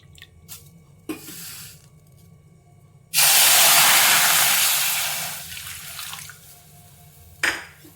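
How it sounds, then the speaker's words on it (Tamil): Water poured into a hot vessel for making kozhukattai dough, bursting into a loud, broad sizzling hiss that swells, holds for a couple of seconds and slowly fades, with faint clinks of pans before and after. "இப்போ அதே பாத்திரத்தில் நம்ம தண்ணி சேர்த்துப்போம்"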